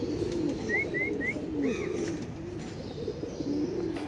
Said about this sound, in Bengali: সুন্দর সুন্দর কবুতর এত কম দামে দেওয়ার